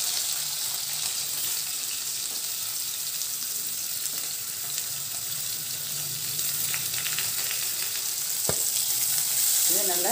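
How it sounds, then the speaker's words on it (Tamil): Onions frying in oil with whole garam masala spices for a coconut milk tomato biryani hiss and sizzle steadily up close, with light stirring scrapes and a brief clink near the end, and no talking. "இந்த கரம் மசாலா பொருட்கள் நல்லா பொரிஞ்சதும் இதில் வெங்காயம் சேர்த்துடலாம்."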